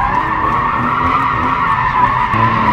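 A BMW X3M drifting, with a steady, loud tire screech over a droning engine throughout.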